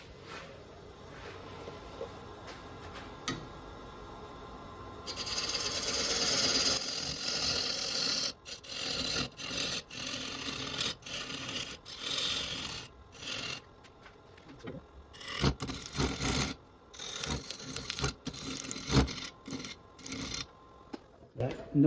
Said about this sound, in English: That noise is this crack when you're using a scraper.